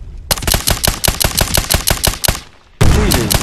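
Rapid automatic gunfire in Medal of Honor Warfighter multiplayer: a sustained burst of about fifteen sharp, evenly spaced shots, loud and close, ending abruptly before a heavy thump.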